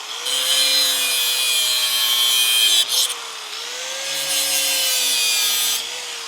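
Cables being trimmed on a 1959 Dodge Coronet during body removal, heard as a loud, steady, grinding cut with a strong whining tone that dips briefly near the middle, then resumes and runs on without talk.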